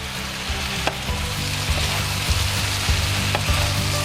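Beef and onion stir-fry in a hot pan, a loud close sizzle with dull knocks and scrapes of stirring at uneven intervals over a low background hum.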